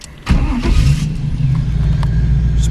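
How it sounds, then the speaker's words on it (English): A 1934 Ford car engine cranks briefly and catches, then settles into a steady, close, loud idle with a low rumble throughout, no talking over it. "Engine doesn't sound like it has a cam in it."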